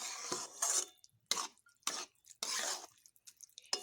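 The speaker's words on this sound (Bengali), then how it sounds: "জলগুলোকে এবার ভালো করে মেশাবো মিশিয়ে আমি এটাকে সেদ্ধ হওয়ার জন্য একটুক্ষণ রাখবো" Rice is stirred with water in a cooking pot, heard as several short, close bursts of wet scraping and sloshing, separated by brief quiet gaps.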